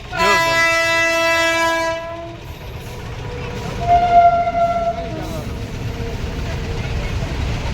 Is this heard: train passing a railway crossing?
yes